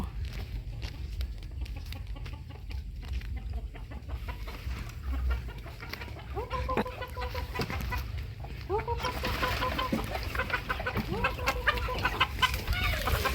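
Chickens cluck intermittently over a steady background hum, with some faint voices nearby; the clucking grows denser and louder toward the end.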